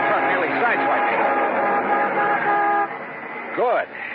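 A big truck roars past close beside a stopped car in a radio drama, its horn blaring in sustained tones before a quick rising-and-falling swoop as it passes, then the rumble fades.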